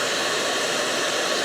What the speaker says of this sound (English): I grab a hair dryer